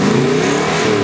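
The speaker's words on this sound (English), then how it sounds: "if you like that really distinctive sound of a chambered muffler" A car engine revs loudly through a Dynomax chambered muffler, a brief, steady, close throaty drone lasting about a second with no talking.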